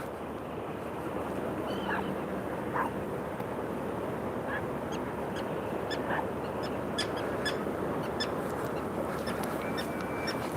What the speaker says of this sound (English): Listen to that bird.